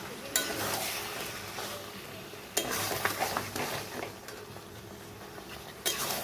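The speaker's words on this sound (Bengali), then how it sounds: "আলুটা এমনভাবে ভাজতে হবে যেন সিদ্ধ হয়ে যায়" Potatoes frying in a pan while being stirred for chicken rezala: a continuous close hiss of frying with three sharp spatula knocks and intermittent scraping strokes.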